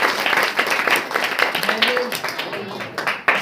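A church congregation at a Saturday prayer meeting claps for God, with brisk, irregular clapping from many hands running steadily under a voice that speaks over it.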